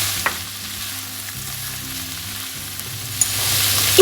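Finely chopped nuts tipped into a hot frying pan and stirred, producing a soft steady sizzle with occasional light scrapes and clicks of the spatula against the pan.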